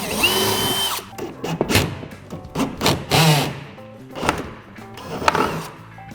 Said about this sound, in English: We've got those 2 holes drilled.